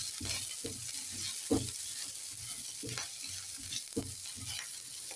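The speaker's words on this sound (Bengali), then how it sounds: "কাঁচা লঙ্কাগুলোকে একটু নেড়ে চেড়ে ভেজে নেব।" Chopped green chillies fry with cumin in hot oil, a constant soft sizzle broken by regular scrapes of a spoon stirring the pan, close by and without talk.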